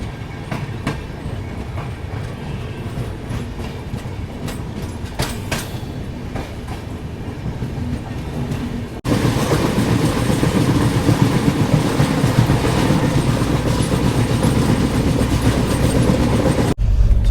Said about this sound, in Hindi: यहाँ आराम से 5 मिनट रुकने के बाद अपनी ट्रेन निकल रही है चूरू जंक्शन से